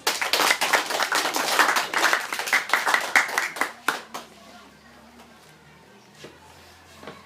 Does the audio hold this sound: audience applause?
yes